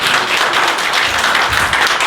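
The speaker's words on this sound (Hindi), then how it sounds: "आइए ताली बजाकर हम परमेश्वर को धन्यवाद दें" A church congregation claps to give thanks to God, a loud, continuous burst of many hands applauding together with no voices over it.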